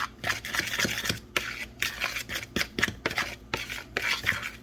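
Breadcrumbs and grated cheese being stirred together in a bowl for chicken parmesan, a steady rustling, scraping rub in repeated strokes, close and moderately loud with no talking.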